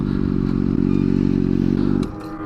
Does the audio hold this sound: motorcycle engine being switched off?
yes